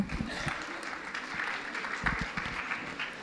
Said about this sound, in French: Il y a moins d'applaudissements quand même